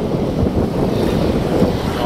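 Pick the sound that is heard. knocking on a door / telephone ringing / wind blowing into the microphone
wind blowing into the microphone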